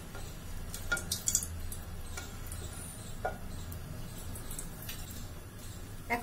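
Potatoes frying in oil in a kadai give a soft, steady sizzle with occasional light ticks and clinks of stirring, fairly faint and without talk.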